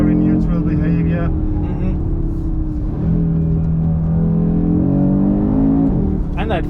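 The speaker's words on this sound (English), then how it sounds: "And that 5-cylinder engine, I mean, that's a gem of an engine." An Audi RS3's five-cylinder engine pulls hard under acceleration in performance mode, a loud, steady droning growl with a rising tone that dips and climbs again, heard from inside the car with voices talking over it.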